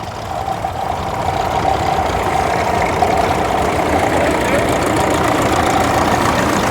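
A vintage Massey Ferguson 135 tractor rumbles past close by at an outdoor vintage show, its engine a loud, steady chugging knock that builds in the first seconds and then holds.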